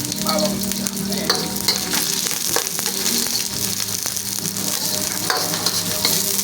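Ginger, onion and garlic sizzle steadily in a hot pan, frying loudly and continuously with occasional stirring scrapes, close up and without talk.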